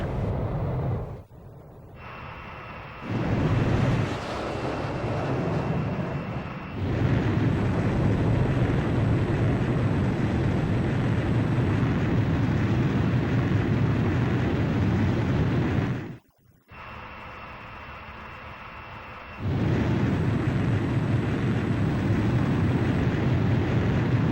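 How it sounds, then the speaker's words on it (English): A fighter jet launches from an aircraft carrier in the video game Ace Combat 5: The Unsung War, a loud, sustained engine roar that surges in stages, cuts out briefly, then returns at full thrust. "Blaze, you are cleared for takeoff."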